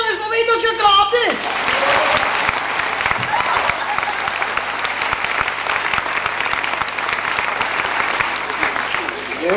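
An audience bursts into sustained applause after a short burst of singing, dense clapping filling the room for several seconds at a steady, loud level.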